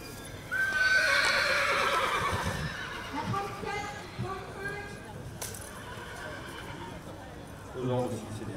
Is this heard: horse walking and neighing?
yes